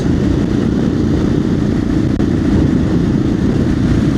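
A Royal Enfield Himalayan motorcycle engine at a steady low rumble while riding, loud and close, with wind mixed in and no talk.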